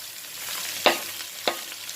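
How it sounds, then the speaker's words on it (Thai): Chilies stir-frying in a pan for pork belly with beans, a soft steady sizzle broken by two sharp scrapes of the spatula. "ผัดพริกให้หอมก่อนนะคะพี่น้องจ๋าผัดพริกให้หอมค่ะ"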